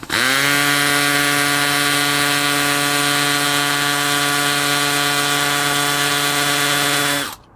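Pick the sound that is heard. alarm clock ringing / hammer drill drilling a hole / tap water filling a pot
hammer drill drilling a hole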